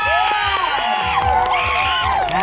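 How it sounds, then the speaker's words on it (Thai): Children at a school event cheering and clapping for visiting university teachers, a loud, dense crowd of shouts and applause close by, with someone speaking over it. "ขอเสียงปรบมือให้กับ อาจารย์จากคณะสังคมศาสตร์ค่ะ"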